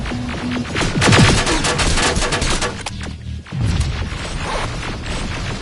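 Dense bursts of rapid automatic gunfire with booming reports in the Terminator: Resistance video game, loud and close, rattling almost without pause before a brief gap and another volley.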